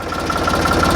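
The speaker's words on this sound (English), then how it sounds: "Seeing the tractor run a little bit." A tractor engine idles steadily after a new bush hog has been fitted, a continuous low mechanical drone with faint periodic knocking, close and fairly loud throughout with no talking.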